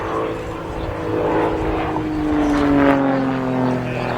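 Display aircraft at an air show pulling up into a hammerhead climb, a steady loud engine drone with a slowly falling pitch as it rises, faint voices in the background.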